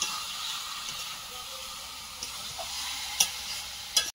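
Chicken meat frying and being stirred in a home kitchen pan, a steady quiet sizzle broken by a few soft scraping knocks near the end, with no talking.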